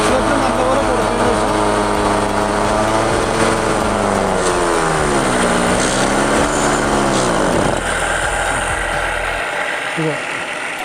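A small engine is being tuned, the accelerator opened up as it races with a steady, loud mechanical whir whose pitch sweeps up and down, then drops off near the end.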